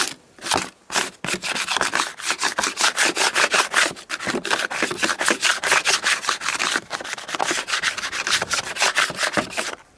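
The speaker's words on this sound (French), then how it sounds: "moi je gratte avec légèrement, j'enlève tout ce que je peux enlever" Debris is scraped off a beehive at a winter apiary with a tool rasping against the wood. A close, loud run of rapid, rhythmic back-and-forth strokes, with a brief pause near the start and no speech.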